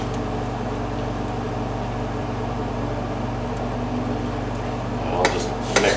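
A breakfast concoction is stirred in a pan on the stove, a soft steady low hiss and faint scraping, with a couple of brief clinks of utensil on the pan near the end.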